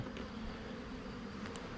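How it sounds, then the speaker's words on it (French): Honeybees hum at an open hive during a spring honey harvest, a steady close buzzing swarm at low level with no talk. "Allez, salut les petites abeilles."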